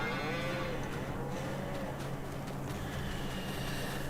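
Cattle lowing in the background in the video game Farming Simulator 22, a few drawn-out moos from Holstein cows rising over a steady low rumble of farm machinery, with no talking.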